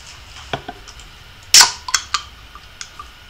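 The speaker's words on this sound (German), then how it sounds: "in den Fuß geschossen, da stirbt er natürlich" A single sharp gunshot from the Sniper Elite V2 video game cracks out loudly, followed by a few smaller clicks and impacts trailing off, with no talking.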